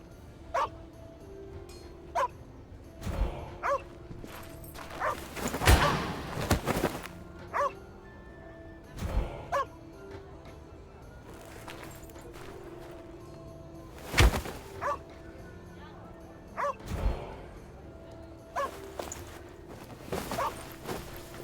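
A dog gives repeated sharp barks and yips in irregular bursts, with softer whimpers and faint footsteps in between, close by and without speech.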